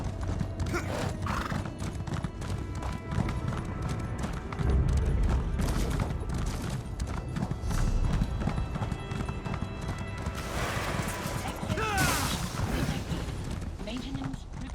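Horse hooves clop steadily while riding a mount in the fantasy game Elder Scrolls Online, a continuous galloping rhythm with occasional whinnies and background game sounds mixed in.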